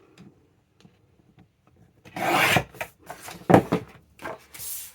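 A sheet of paper is trimmed down to size, with a quiet stretch followed by several close, rasping cutting strokes in quick succession.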